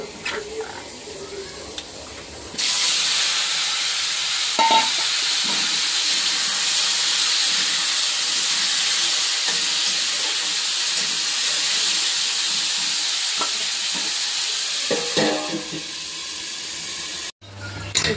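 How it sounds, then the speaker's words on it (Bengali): Ridge gourd frying in a pan with five-spice, green chilli, salt and turmeric: a loud, steady hiss and sizzle runs for most of the stretch, with faint clinks and no one speaking. "পাঁচফোড়ন দেবো একটু দিয়ে এটা ভেজে নেব।"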